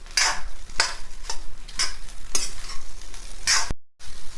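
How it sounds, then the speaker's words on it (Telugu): Leftover rice stirred in a hot pan for egg rice, repeated scraping strokes of the spatula at a steady rhythm over a soft sizzle, with a brief silent gap near the end. "అన్నం అంతా ఇలా మంచిగా కలిపినండి, మొత్తం కలిసింది"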